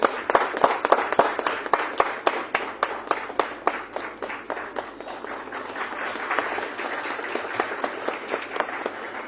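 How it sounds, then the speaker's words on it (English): A sustained round of applause fills a conference hall in Ghaziabad for the Managing Director of Morgan Stanley Consulting, with sharp individual claps standing out early before settling into a steady, moderately loud patter. "Let's have a huge round of applause for Mr."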